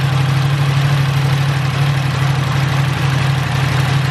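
A 2021 Yamaha R1M motorcycle engine idles close by with a loud, steady, even rumble that holds unchanged throughout, with no voices.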